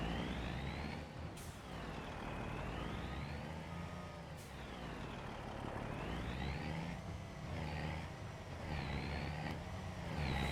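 A truck in Farming Simulator 25 drives and maneuvers through a tight area, its engine droning steadily with rising and falling pitch as it turns, close and continuous throughout.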